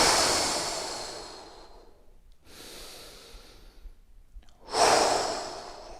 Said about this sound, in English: Take some full deep breaths in